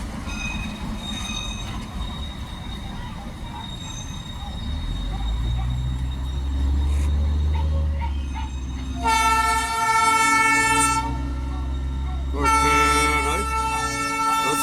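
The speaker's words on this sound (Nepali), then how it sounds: "यहाँ चाहिँ अहिले है आइपुगिसकेको छ दार्जिलिङको टोय ट्रेन है।" Darjeeling toy train rumbling steadily along the rails, close and loud, with two bright horn toots sounding over the running noise near the end.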